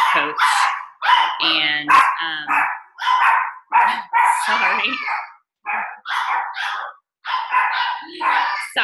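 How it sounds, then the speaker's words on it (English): Several dogs bark frantically and nonstop at a FedEx delivery driver, loud, close yips and barks in rapid bursts filling the room. "the FedEx guy is here, so my dogs are going crazy"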